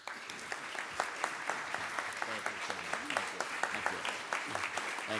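Sustained audience applause greets Mayor Roy Jule at the 2017 Dubuque State of the City Address, a steady dense clapping that fills the hall, with a few voices and cheers mixed in.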